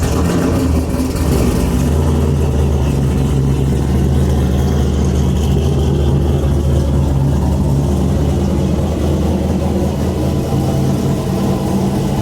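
BMW F80 engine rumbling steadily at close range while the car is driven slowly into a garage, a continuous loud low drone with slight revving swells throughout.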